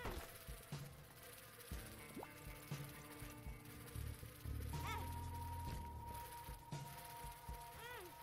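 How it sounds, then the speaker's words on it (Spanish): Flies buzz in the video game The Binding of Isaac: faint insect-like drones and chirping game effects over a low hum, with scattered clicks and tones. "Despacito porque las moscas se me acercan"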